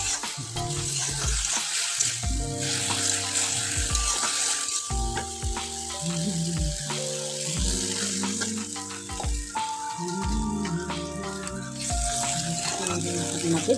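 Puti fish fry in a pan with a steady, continuous sizzle, while melodic music plays in the background throughout.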